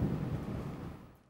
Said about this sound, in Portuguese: deu agora um trovão aqui